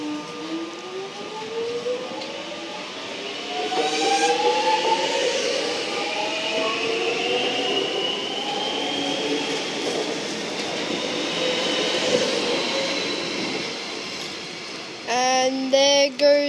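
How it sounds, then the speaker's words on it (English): A Metro Trains Glen Waverley service train departs Holmesglen station with a rising electric motor whine and rolling rumble that swell and fade across the platform, heard at moderate distance without talk. "the Glen Waverley service is now departing."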